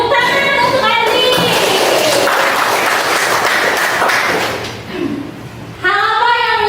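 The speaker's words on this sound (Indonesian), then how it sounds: "tepuk tangan untuk Adli" A classroom full of students claps for a classmate, a loud, dense round of applause that runs for several seconds and then fades, with a voice speaking over the start and end.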